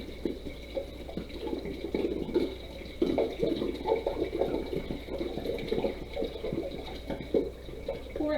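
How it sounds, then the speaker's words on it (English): Sanitizing liquid poured low into a bucket while making cider, a faint, steady splashing and trickling that stays close and continuous. "we're going to pour it into our bucket so we can sanitize everything else"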